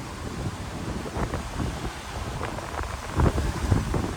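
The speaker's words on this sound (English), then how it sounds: "Kind of windy today." Gusty wind buffets the microphone outdoors in uptown Charlotte, a rough, uneven rumble swelling and easing with a few stronger bursts near the end.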